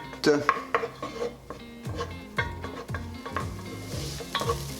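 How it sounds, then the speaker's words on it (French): Chopped onion and shallot sautéing over medium heat in a pan for Thai shrimp, a lively sizzle broken by repeated scraping stirs of a utensil against the pan, close and fairly loud. "Oignon. Échalote. Et je fais revenir 5 minutes."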